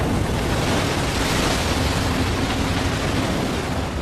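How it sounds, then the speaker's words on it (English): Giant tsunami waves crash over a seawall at the Fukushima Daiichi nuclear plant, a continuous loud roar of churning surf and water with rushing wind noise and no talk. "the first of 7 giant waves crashes over the seawall"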